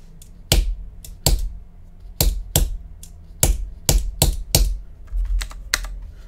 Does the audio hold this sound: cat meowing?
no